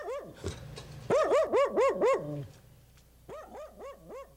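A family dog barks in a small Montana farm town in the Golden Triangle, giving two bursts of five or six evenly spaced, close, loud barks with a short pause between them.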